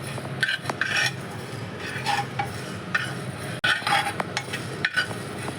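Spices with red chili are dry roasted in a pan, with a utensil scraping and stirring in repeated strokes over a steady dry rustle, close and fairly loud.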